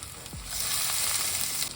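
Minced garlic and bacon frying in olive oil over low heat, a steady close sizzle holding evenly throughout a short moment with a brief stir at the start.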